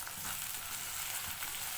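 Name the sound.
small onions sautéing in a pan for mutton varuval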